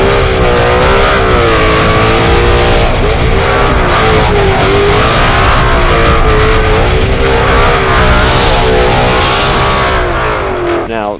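A 2017 Ford Mustang GT with a V8 and 6-speed manual gearbox revs hard, its loud, close engine note swelling and falling in repeated waves for about eleven seconds.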